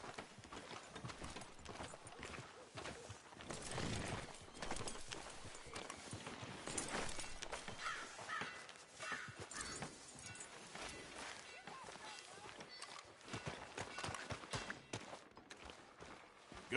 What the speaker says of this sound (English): Tether the horse and I'll meet you across the street.